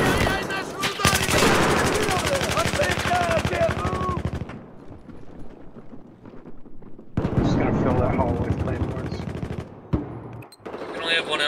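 Rapid bursts of automatic gunfire and heavy blasts in Battlefield 4 close-quarters combat on Operation Locker, loud and sustained with brief lulls, mixed with game sounds and occasional voices.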